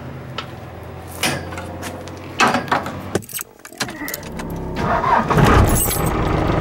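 An older car is started after keys jangle close by: a few clicks and rattles, then the starter cranks and the engine catches, settling into a loud steady idle with no talking.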